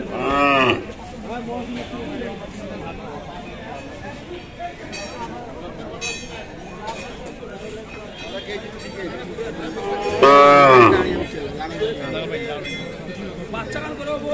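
Loud cattle moos ring out twice, at the start and again near the end, over a steady murmur of crowd chatter at the busy Railbazar livestock market in Dinajpur, Bangladesh.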